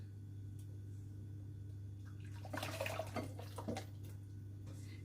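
Chocolate cake mixture is poured into a glass bowl, making a brief wet, splashing gush near the middle. A steady low electrical hum runs underneath, and no one speaks.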